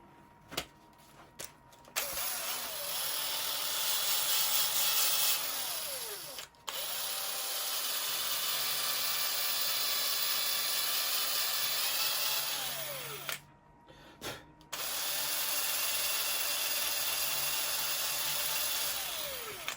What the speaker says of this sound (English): I'll just quickly kibosh a little 240 grit pad on the drill and clean that up there